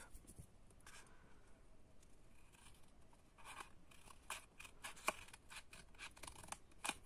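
Scissors snipping through a paper rectangle for a pop-up scrapbook card, heard as a quiet, close, irregular series of short crisp cuts and rustles that grow busier toward the end, with no talking.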